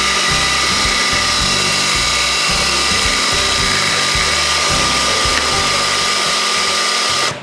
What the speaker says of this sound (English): So I'm going to turn the food processor on and then I'm going to slowly add in our lemon juice.